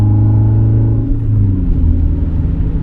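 A BMW E36 with a straight-through exhaust drones with a steady low engine rumble and resonance, loud and close, with no talk over it.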